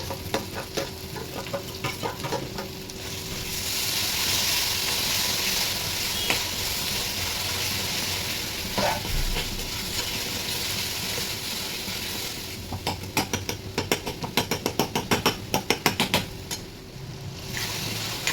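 Chopped tomatoes sautéing in a pan, with a steady sizzle and intermittent stirring scrapes, close and moderately loud.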